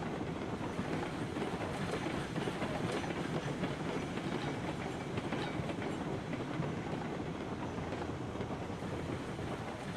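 A train runs and brakes in the Railroads Online video game, giving a steady, loud rumble with rail clatter that runs unbroken for the whole stretch, and no voices can be heard.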